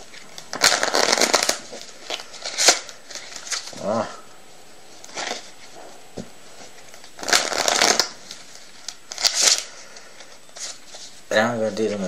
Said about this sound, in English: Give the pack a few shuffles and cuts, like so.